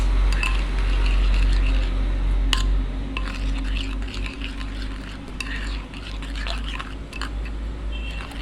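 A utensil scrapes and clinks around a bowl while flour is mixed into eggs and chopped parsley for a baked cauliflower dish, with soft clattering and wet stirring sounds that run under a speaking voice.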